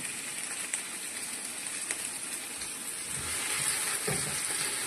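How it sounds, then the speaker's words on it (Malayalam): Vegetables for Kerala sambar, okra, drumstick, tomato, onion and green chillies, sautéing in a pan with a steady broad hiss of frying and faint stirring scrapes throughout, growing slightly louder near the end. "പച്ചക്കറി കുറച്ചിട്ട് വഴറ്റുന്നു."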